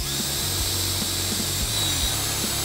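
A power drill boring a 5/32-inch hole to mount a fan control module for a Flex-a-lite electric fan on a Ford F-150, heard close and alone as a steady whirring, ratcheting run lasting a few seconds.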